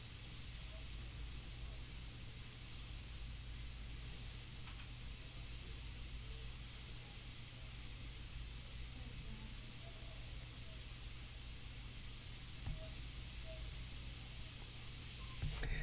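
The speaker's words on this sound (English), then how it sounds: "go ahead and just work on that with the airbrush" An airbrush sprays India ink onto paper for a portrait, giving a steady, continuous airy hiss throughout over a low compressor hum, close and even in level.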